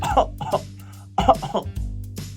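A voice imitates coughing, giving a couple of short, rough bursts close to the microphone.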